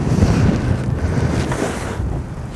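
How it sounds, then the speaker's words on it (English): Strong gusty wind roars outdoors by the water at a natural fishing venue, a steady loud rumble buffeting the microphone throughout with no voices. "it's really windy today"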